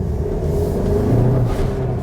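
A Seat Tarraco in Sport mode accelerates on the road, its engine a steady, close low rumble that swells slightly midway with no voices.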